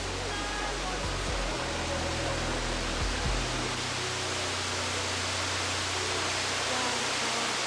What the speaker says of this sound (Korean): 크로아티아에서도 가장 높은 폭포로 알려진 벨리키슬라 폭포